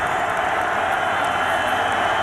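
A college football stadium crowd at Folsom Field roars in a dense, steady wash of cheering and noise, loud and continuous across the short moment.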